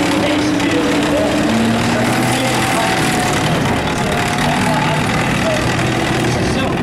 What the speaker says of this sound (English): It's a self-propelled gun.